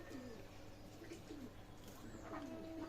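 Pakistani Teddy pigeons coo softly in a pigeon loft. The low, repeated coos come every half second or so, faint and slightly distant, over steady background hiss.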